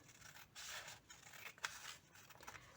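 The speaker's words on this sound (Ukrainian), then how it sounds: "Беремо ножиці" Scissors cut paper for a hedgehog craft, making faint, close, crisp snips and rustling scrapes in short repeated strokes.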